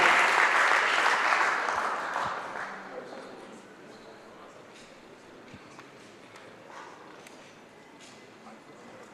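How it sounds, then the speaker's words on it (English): Audience applause for a lecturer at a podium during an annual population lecture, loud and dense at the start, then thinning and fading to a quiet room over several seconds. "A round of applause for Prof."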